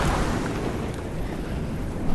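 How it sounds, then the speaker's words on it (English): Grenade blasts in Fortnite, a steady rumbling explosive roar with low booming energy that holds evenly for a couple of seconds with no clear gaps. "Oh, he had grenades, that's cool."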